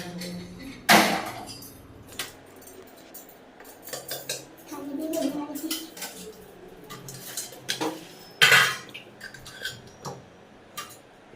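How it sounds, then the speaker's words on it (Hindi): Pots and a pressure cooker clatter and clink while being washed in a home kitchen, with sharp metallic knocks and scrapes at irregular intervals, two loud bangs standing out close by, and no talking. "बस धुलना था कुकर, बस बाकी था।"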